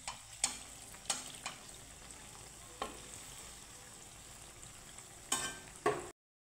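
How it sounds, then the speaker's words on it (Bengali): Ripe jackfruit malpua frying in hot oil, a quiet steady bubbling hiss with several sharp clattering bursts as the pieces are turned and lifted, then sudden silence at the end. "লাল লাল করে ভেজে নিচ্ছি"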